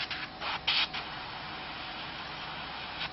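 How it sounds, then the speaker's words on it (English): A spray gun gives a quick test spray of SMS paint, a few short, close hissing bursts with steady background noise between them. "just gonna give it a test spray"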